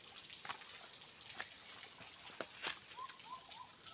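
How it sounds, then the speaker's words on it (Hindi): Water rushes hard along an irrigation canal outdoors, a steady gushing wash with splashy bursts, moderately close, and a few faint bird chirps near the end. "देखंतु पानी केमती जोरुची"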